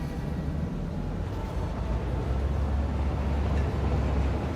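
A train rolls along its track in the factory-building game Satisfactory, a steady low rumbling drone with a faint mechanical hum that swells slightly toward the end, continuous and fairly loud, with no voices.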